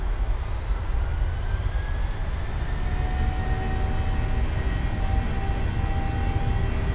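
Jet engines of a PMDG 737-800 at takeoff power in a flight simulator: a loud, continuous roar with rising whining tones, steady throughout and without voices.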